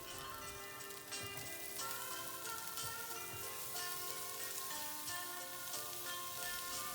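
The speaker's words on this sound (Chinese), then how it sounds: "这时加入芹菜、胡萝卜，将它们炒熟到你喜欢的程度" Celery and carrots stir-frying in a hot pan for fried rice, a steady dense sizzle and crackle lasting throughout with no pauses, close and fairly loud.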